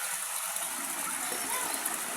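Water flowing from a mountain spring beneath a rock, a steady close hissing rush without breaks.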